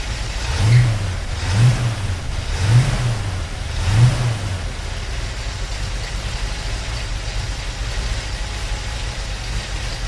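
Ford Mustang Mach 1 engine running after sitting a few days, four throaty revs rising and falling early on, then settling into a steady rumbling idle, close and loud.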